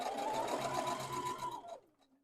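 A domestic sewing machine with a quarter-inch foot stitches a seam along fabric edges, a fast steady whirring hum at close range that slows and stops near the end, with no voices.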